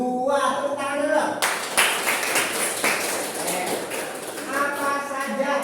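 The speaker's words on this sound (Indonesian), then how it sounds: "Tepuk tangan dulu." A classroom of students clapping together in a short, brisk burst between stretches of a teacher's speech during a physics lesson on straight-line motion.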